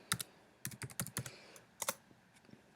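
Quick bursts of typing on a computer keyboard while entering a search term, a few clustered clacks then a pause and a short final flurry, close and fairly quiet with no talk.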